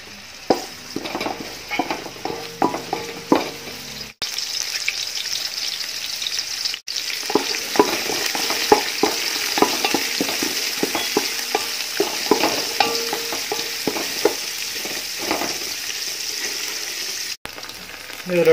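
Sliced onions and green chilies sizzle in a pan for kuska biryani, with a continuous frying hiss and frequent scraping, clattering stirs from a spoon against metal, briefly breaking off a few times, close and without talk.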